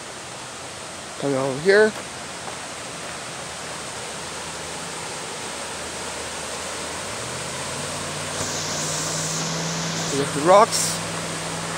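Broad, steady rushing of a waterfall fills the whole scene, a constant hiss near and loud, while a person speaks briefly over it at the start and near the end.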